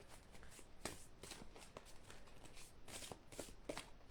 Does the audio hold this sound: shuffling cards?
yes